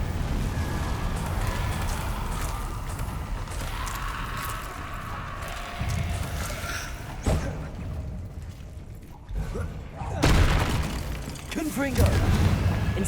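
Explosive spell blasts go off in the Hogwarts Legacy video game, with booming bursts and cracking impacts at irregular intervals over busy combat noise while a voice shouts throughout.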